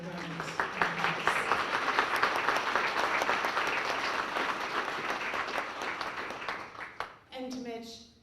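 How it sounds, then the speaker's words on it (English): Applause from diners at a Grove City Chamber of Commerce dinner, a dense round of clapping from the room for Beth that runs steady for about seven seconds, then drops off as a voice begins speaking near the end. "Let's give Beth a round of applause"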